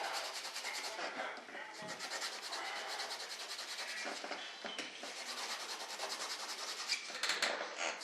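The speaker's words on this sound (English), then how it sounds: "Even on that fresh fiberglass, sand it just a little." Sandpaper roughing up freshly laid fiberglass on an RC jet B-1 Bomber build, a steady close scratchy rubbing that runs continuously for the whole stretch.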